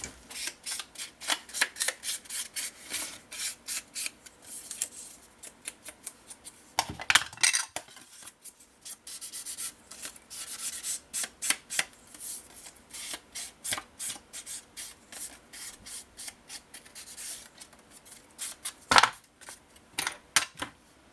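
Paper for a vintage interactive scrapbook album being cut along a diagonal, giving a run of crisp, rapid snipping and rubbing strokes, close and fairly quiet, with a few sharper clicks and no talking.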